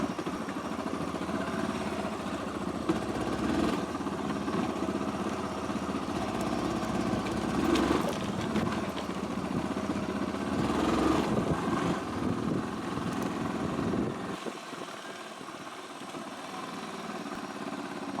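A Yamaha YBR 125 fitted with a 150 kit runs cold at a steady idle, a close, even engine drone that holds for most of the stretch before its low rumble drops away near the end.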